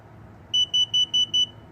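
A Tesla Model 3 fitted with a Hansshow power trunk gives five crisp, high electronic beeps at a steady pace, near and prominent against faint room noise.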